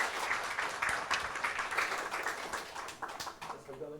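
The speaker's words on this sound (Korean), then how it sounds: "박수하겠습니다" A church congregation claps warmly during a Sunday worship service to welcome a pastor, a dense, continuous patter of many hands that fades slightly toward the end.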